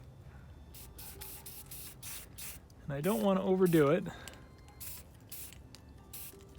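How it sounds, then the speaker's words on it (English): Short hissing bursts of spray paint, repeated in quick pulses, with someone speaking briefly over them in the middle. "let's see what we can get with just a little bit of spray paint here"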